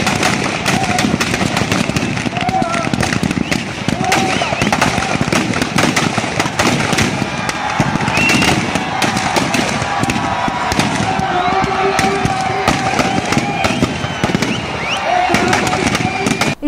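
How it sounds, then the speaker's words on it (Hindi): Fireworks at a Dussehra Ravana effigy burning, with dense, continuous crackling bursts and pops echoing outdoors over crowd noise and voices. "दहन के पहले आकर्षक आतिशबाजी भी की गई।"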